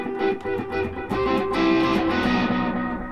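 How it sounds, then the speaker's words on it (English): An electric guitar played through a Hall of Fame reverb pedal, sustained chords ringing out with a wide, washy reverb tail and shimmering overtones, loud and steady throughout with no talking. "my Hall of Fame, reverb, like I said, is like my favorite effect"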